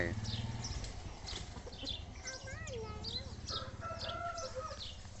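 Chickens cluck and a rooster crows around a village home, the crowing rising clearly over steady nearby clucking as people talk in the background.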